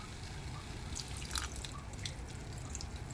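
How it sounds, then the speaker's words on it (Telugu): Water trickles and drips into a simmering red gongura (sorrel) curry, a steady soft liquid splashing with small droplet patters throughout, no voices. "వాటర్ పోస్తాము."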